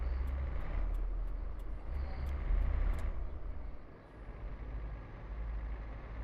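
A lorry engine drones low and steady in Euro Truck Simulator with Promods, a constant rumble with faint higher hiss, dipping briefly midway before resuming, with no talk over it.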